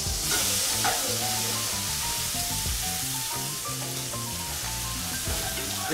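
A reverse-seared steak sizzles steadily in a hot pan, a loud, continuous frying hiss with tonal music-like sounds layered over it and no talking.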